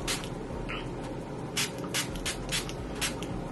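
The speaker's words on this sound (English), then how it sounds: "Let's spray so that it can be a little moist" Setting spray mists onto a face in a few short, breathy hisses, spaced irregularly over a low steady background hum, close to the microphone.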